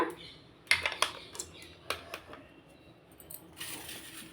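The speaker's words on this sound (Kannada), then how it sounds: "ಈಗ ಇದನ್ನು ತುಪ್ಪ ಹಚ್ಚಿ ಇಟ್ಕೊಂಡಿರೋ ಪ್ಲೇಟಿಗೆ ಇದನ್ನು ಹಾಕೊಳ್ಳೋಣ" A spoon scrapes and clinks against a vessel and a ghee-greased plate as karadantu sweet mixture is spooned out, with sharp metallic taps spaced irregularly over quiet background.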